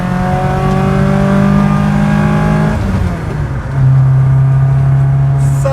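A VW Mk2 Golf GTi with a 16-valve engine accelerates hard, its rising engine note climbing loudly before a brief dip at a gear change, then pulling again, close and alone.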